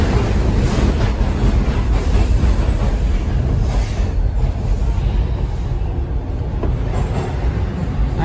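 Toronto TTC subway train rolling along the rails, a loud continuous rumble with steady rail noise and a brief high wheel squeal, close and with no talking.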